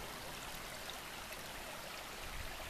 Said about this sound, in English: Here's where the trail first crosses Mill Prong Creek.